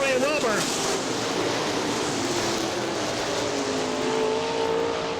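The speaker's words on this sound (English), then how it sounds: "Marv Burroughs continues to stretch out the advantage in the number M1 machine." Super late model race cars circle the track at Butler Battlegrounds in Quincy, Michigan: a steady, washing engine roar with faint rising and falling whines, heard from a distance with no voices over it.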